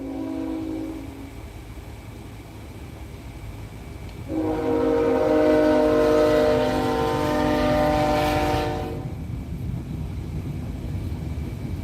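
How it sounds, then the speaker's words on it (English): A train passes with a long, loud horn blast lasting several seconds over a continuous rumble of rolling cars, with no speech. "And they got the train coming as I'm saying that."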